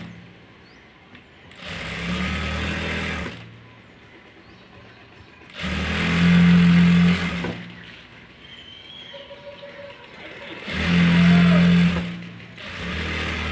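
Sewing machine running bursts while stitching invisible thread piping onto fabric, three loud whirring runs of about two seconds each separated by quieter pauses, close and with no talk.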